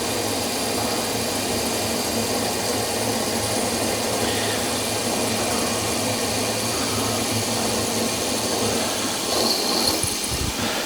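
A steady, loud mechanical whir of a 4.2 mm drill boring into metal on a mini lathe runs without pause, with a dense grinding hum throughout.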